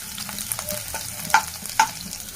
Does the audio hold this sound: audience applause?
no